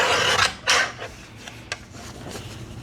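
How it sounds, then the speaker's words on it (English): Paper trimmer slicing a micro-perforated edge off a strip of paper, a few quick scraping rasps followed by softer sliding and rubbing, close up with no talk. "Let me trim the little micro perf off of this."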